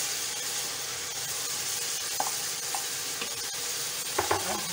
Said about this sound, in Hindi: इसलिए हमें तेज़ आंच में भूनना है।